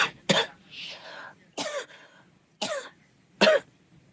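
A person coughs five times in short, sharp bursts spaced irregularly across a few seconds, close and fairly loud, with quiet pauses between.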